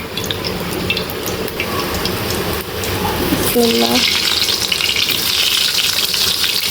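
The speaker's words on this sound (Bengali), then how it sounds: "এই চুলায় বেগুন ভাজবো আর ঢেঁড়স ভাজি করবো" Eggplant and okra frying on a stove make a constant loud sizzle and crackle that swells in the second half, with a brief voice heard partway through.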